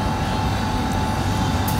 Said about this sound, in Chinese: 10:15，飞机起飞就往台北去。